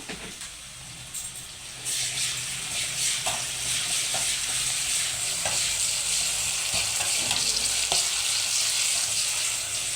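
Onions sizzle in hot oil with ginger-garlic paste and dried fish, a steady frying hiss that grows louder after the first two seconds, with a few soft stirring scrapes and no talking.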